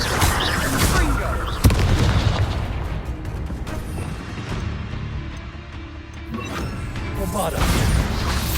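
An explosive Bombarda spell cast in Hogwarts Legacy, with a sharp blast and heavy crashing booms, followed by rumbling impacts and another loud burst near the end, with speech mixed in.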